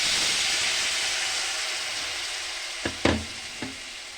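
Chips deep-frying in hot oil in a wok give a steady, dense sizzle throughout, close and fairly loud, broken near the end by a few sharp clatters of a utensil.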